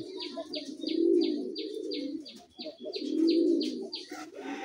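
Raj Golla pigeons coo in long, rolling, throaty phrases, close and fairly loud, with a run of repeated sharp chirps from another bird above them.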